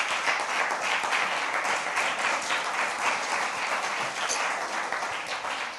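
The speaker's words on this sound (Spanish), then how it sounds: "Dele un aplauso grande, gigante." A church congregation breaks into sustained, dense applause, a steady loud wash of many hands clapping together for several seconds without letting up.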